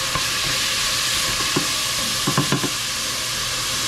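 Food sears and sizzles in a hot pan with a steady frying hiss, while several sharp scraping clicks of a utensil against the pan surface come through near the middle and end.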